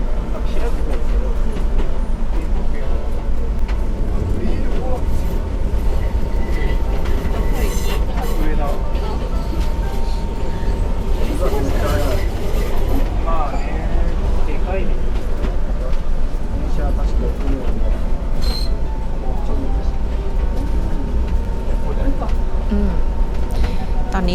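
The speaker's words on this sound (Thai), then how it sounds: "รถไฟก็กำลังจะเลี้ยวนะคะ" An Enoden electric train rolls along rails through a tight residential strip near Kamakura, houses right up against the track, giving a steady loud rumble with faint squeals, while someone talks over it throughout.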